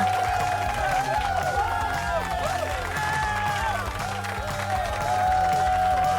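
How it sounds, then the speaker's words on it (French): An audience applauds and cheers a stage performance at a school, a dense continuous crowd noise with lively voices ringing over it. "Le frère de Michael a décidé de les applaudir directement sur scène."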